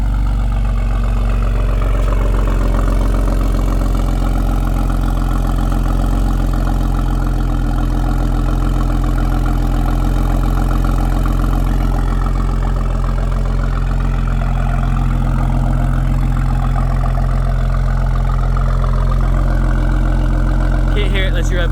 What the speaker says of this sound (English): somewhat of a cold start.